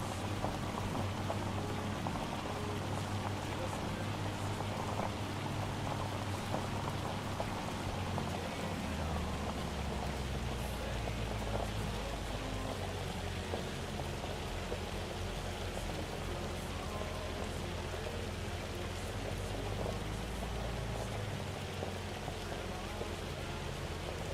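Steady, dense hail drumming continuously on a surface in a farming video game, loud and unbroken throughout with a low rumble underneath.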